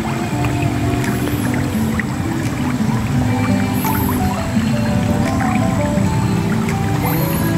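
Tilapia fish feed in water, making continuous wet squishing and dripping splashes with bubbling gurgles, close and fairly loud, steady throughout with no speech.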